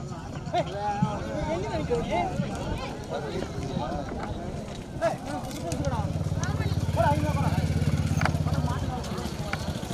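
Bulls' hooves pound along at a bullock cart race, a rapid running clatter heard over constant crowd babble and shouting voices, with a low rumbling drone joining in partway through.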